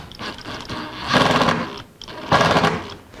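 A battery power driver turns a bolt in a guitar workshop building a Martin 00 style acoustic guitar, with two loud, close whirring motor bursts separated by a brief pause.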